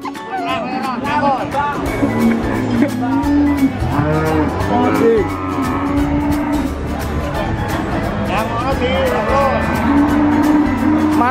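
Cattle or buffalo moo repeatedly and loudly at close range, long drawn calls overlapping one another over a dense, continuous background.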